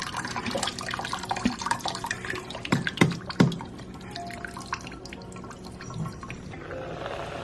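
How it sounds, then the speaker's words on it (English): Water splashes and trickles as it is poured off boiled plantains, with a few heavier glugs and drips before it tapers to a faint run. "Plantain is ready, so we're going to drain the water."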